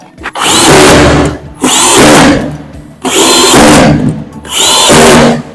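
A power tool drives a screw tight on a three-phase electrical distribution box with a rotary switch and MCBs, four loud close bursts of whirring, each about a second long, separated by brief pauses.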